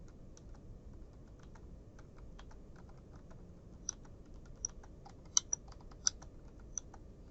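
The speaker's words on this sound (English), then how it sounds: "So I'm going to type J space," A computer keyboard in a typing lesson, with the letter J and the space bar struck in turn. Soft, sparse, close keystrokes tap out at an irregular pace, with a few sharper clicks standing out near the end.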